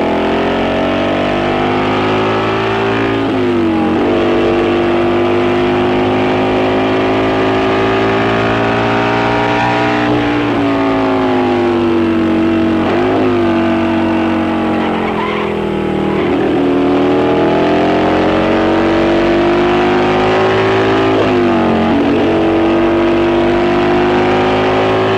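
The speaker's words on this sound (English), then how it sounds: "Road racing is noisy, precise, and very exacting." Highly tuned road racing motorcycles at a 1971 race roar loudly and continuously. The engine pitch rises and falls through throttle changes and gear shifts, with several machines droning together for the whole stretch.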